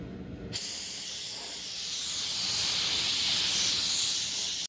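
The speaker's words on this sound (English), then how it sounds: "I take the spray gun and I just pull the trigger enough for air just to make sure whatever I missed with the tack cloth is blown off" A paint spray gun with its trigger pulled just enough to blow air, clearing dust off motorcycle parts before painting, gives a loud, steady hiss that starts abruptly and holds for several seconds, with no talking.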